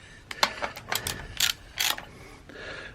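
A ratchet working bolts loose at the rear end of a Honda Bros motorcycle, giving close, sharp clicking bursts in a few irregular spurts with brief pauses between them.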